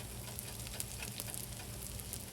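French toast and sausages frying in a pan, a steady soft sizzle and crackle heard alone at low level.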